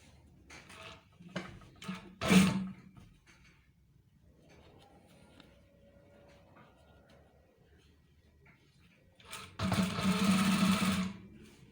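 Sewing machine stitching thick trouser fabric for a police uniform, short bursts of rapid stitching separated by quiet pauses, close and fairly loud.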